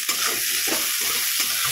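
Bay leaf and whole spices fry in hot oil in a pan with a loud, close, continuous sizzle and occasional stirring scrapes.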